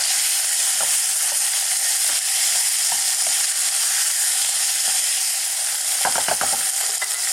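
Pork with garlic and onions stir-fried in a wok over medium heat, a loud continuous sizzle close up, broken by scraping and clattering of the spatula against the metal, with a brief burst of rattling near the end.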